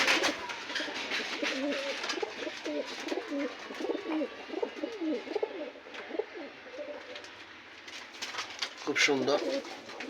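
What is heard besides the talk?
pigeons cooing in a rooftop pigeon farm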